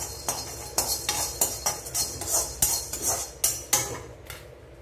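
A metal spoon scraping and clinking in a pan as whole spices such as pepper, cinnamon, mace, cardamom and cloves are dry-roasted, a close, rhythmic series of stirring strokes with faint crackle underneath.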